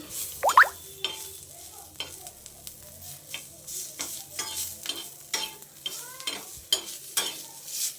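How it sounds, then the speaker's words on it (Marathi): Garlic and coriander stir and scrape as they roast in a dry pan with light sizzling, uneven clinks and rustles spread across the clip; no one speaks. "तर लसूण आणि कोथिंबीर छान अशी भाजून झाली आहे"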